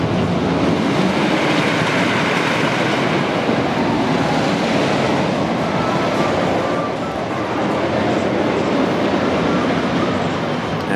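Thunderhead, a wooden roller coaster at Dollywood, roars continuously as the train runs along its track, a loud, dense rumble with steady rattling that fills the whole stretch without any talk.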